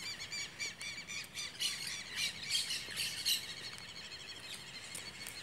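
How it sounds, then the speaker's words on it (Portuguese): Southern lapwings call repeatedly above a large lagoon at sunrise, sharp squawking cries in clustered bursts at moderate distance over a faint outdoor background. "Os quero-quero cantando lá em cima da Lagoa Maior,"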